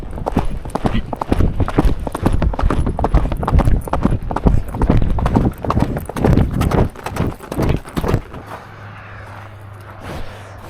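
A horse's hooves clip-clop in a fast, dense rhythm close by for about eight seconds, then stop, leaving a steady low hum and quiet background.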